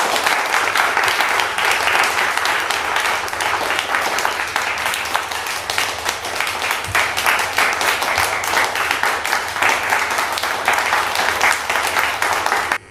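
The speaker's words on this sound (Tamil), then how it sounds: "பலத்த கரகோஷம் ஒலிக்க" Loud, sustained applause from an audience at a book launch ceremony held by the Chennai Port Authority, greeting the chief engineer. The dense clapping continues steadily for about thirteen seconds with no talk over it.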